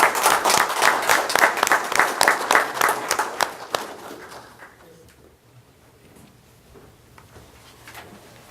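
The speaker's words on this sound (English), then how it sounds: "Applause." A room at a Harlingen city commission meeting breaks into loud, dense clapping for about four seconds, then it thins out to a few scattered claps over quiet room noise.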